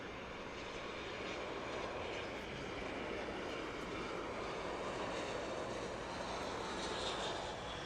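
Steady broadband jet roar of an airliner approaching Luis Muñoz Marín International Airport in San Juan, loud and continuous throughout, with a rising whine near the end.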